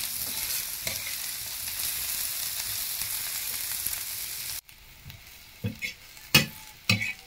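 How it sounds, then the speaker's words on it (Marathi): Chopped onion sizzles steadily in a pan over a traditional wood-fired stove while being cooked for Marathi kurdai bhaji. The hiss suddenly cuts off, followed by a few sharp scrapes and clinks of stirring. "त्याला लाल कलर येईपर्यंत आपण कांदा भाजून घेऊया."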